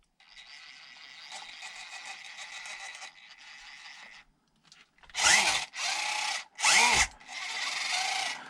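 An electric motor in a 1/18 Land Rover Defender RC car on a 2S LiPo whines in a steady hum, then revs in several loud, short bursts with gaps between them.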